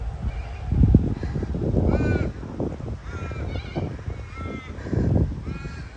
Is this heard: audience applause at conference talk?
no